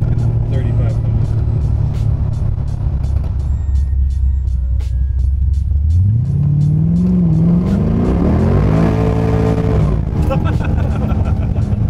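An old Chevrolet Camaro's engine roars loudly from inside the car while driving, revving in second gear to around 3500 rpm with a rising, wavering pitch, while someone talks over it.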